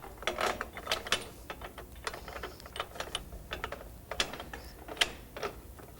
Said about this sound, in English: Next, move the load pin, again leaving 2 empty holes.